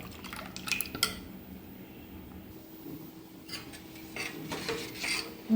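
A spoon clinks and scrapes against a bowl while stirring ragi (finger millet) dosa batter, a few sharp metallic taps and soft wet swishing at close range, otherwise quiet.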